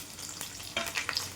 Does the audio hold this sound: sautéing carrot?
yes